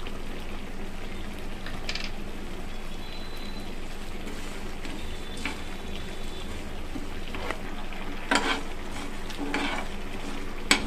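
Whole spices including cinnamon and dried red chillies dry-roast in a pan, making a steady, dense sizzle and rustle with occasional louder scrapes of stirring, continuous and close, with no voices.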